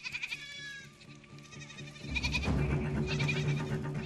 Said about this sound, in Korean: 염소들은 평화롭기만 하다.